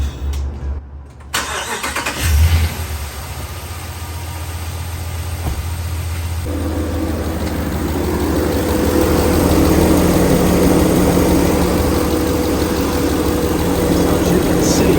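A 2019 Ram 1500 pickup engine cranks and catches, then settles into a steady, rising idle that holds close and loud to the end, with a brief voice near the start.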